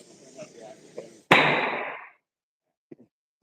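An oxy-fuel torch backfires with a single sharp, loud bang, followed by a rushing burst of flame that dies away into near silence.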